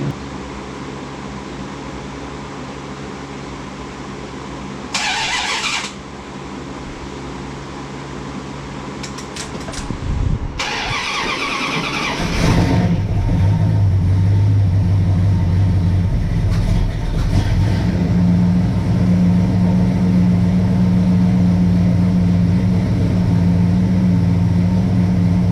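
An old carburetted car engine being started, a short crank and then a catch into a loud steady idle that keeps running with a low rumble.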